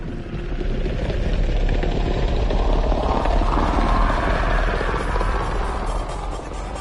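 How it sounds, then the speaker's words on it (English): An enemy Kett shuttle flies in during a Mass Effect: Andromeda battle with a loud, steady roar of engine and rotor-like thrum. It stays strong throughout, swelling slightly in the middle, and no one speaks. "Hostile shuttle incoming."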